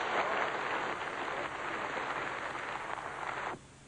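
Sustained applause fills the Russian parliament hall, a dense, steady roar of many hands clapping at moderate distance that cuts off abruptly near the end.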